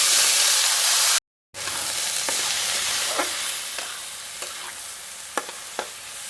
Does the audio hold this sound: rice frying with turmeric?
yes